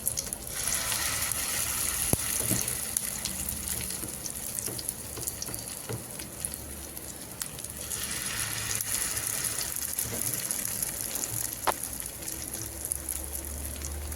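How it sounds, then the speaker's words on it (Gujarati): Mustard seeds, sesame and curry leaves sizzle in hot oil for a crispy bottle-gourd handvo, with a steady, dense crackling hiss throughout, near and fairly even, and occasional faint clicks of utensils and no voices. "રાઈ અને ત્યારબાદ તલને ત્યારબાદ કરી લીમડીને આપણે આવી રીતે તેલમાં સાંતળવાની અને ત્યારબાદ આપણે તેમાં ખીરું ઉમેરવાનું છે"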